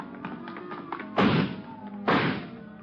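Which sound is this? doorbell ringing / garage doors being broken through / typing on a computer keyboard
garage doors being broken through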